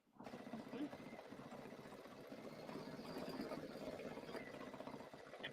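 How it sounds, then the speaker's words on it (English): A Kimberbell embroidery machine stitching out the words "fresh flowers" gives a continuous close mechanical whir and rapid needle chatter that holds steady throughout. "So this is just stitching the words fresh flowers."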